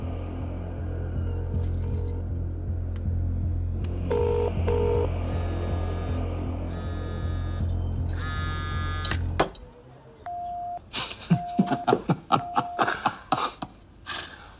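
A telephone call is placed in an action movie scene: a series of quick dialing tones and beeps is followed by repeated ringback tones and sharp clicks, loud and close with no talk.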